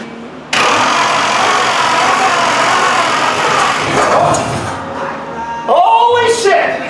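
A chopped 1950 Ford Shoebox with no exhaust, sitting unused for over 20 years, cranks over with a loud, steady, close churning that runs several seconds before a few sharper bursts near the end.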